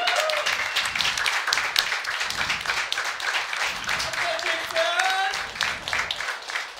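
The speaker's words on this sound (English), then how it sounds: "One last round of applause for our champion" A crowd at a Super Smash Bros. Melee tournament grand final claps and cheers for the champion, with sustained applause and scattered whoops and voices mixed in.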